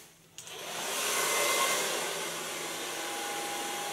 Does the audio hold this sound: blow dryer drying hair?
yes